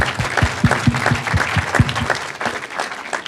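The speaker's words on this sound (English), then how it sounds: "Believe me, that applause was for her." Audience applause fills a New Hampshire town hall meeting, a dense, loud wash of clapping from a crowd with some low thumping claps standing out near the front, sustained throughout without speech.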